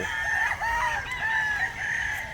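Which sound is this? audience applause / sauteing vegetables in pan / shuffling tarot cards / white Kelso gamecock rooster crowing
white Kelso gamecock rooster crowing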